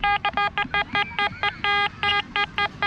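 A Quest X10 Pro metal detector beeps over a 1-grosz coin, a rapid series of about fourteen short, clear electronic tones pulsing in quick rhythm, loud and close with faint background noise.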